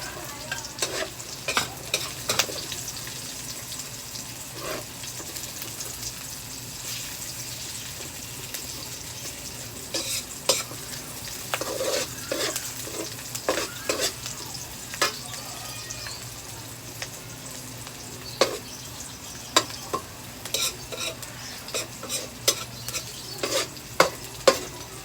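Garlic frying in oil, a continuous close sizzle with a spoon stirring and scraping the pan in irregular strokes and occasional sharper clanks.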